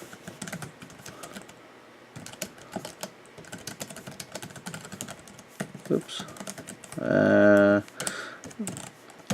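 Rapid clicky typing on a Flip Turn keyboard case for the iPad Air, close up and continuous, with a brief spoken word and a short tonal sound partway through.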